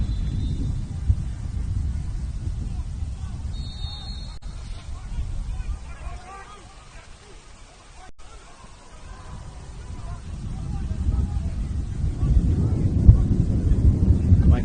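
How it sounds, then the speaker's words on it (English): Low, steady wind buffeting a microphone outdoors at a high school lacrosse semifinal, rumbling throughout and swelling louder near the end, with faint distant voices and activity behind it. "It is pretty windy out here."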